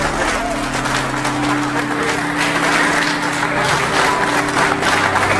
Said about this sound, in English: Somebody clap for the God of Ochopa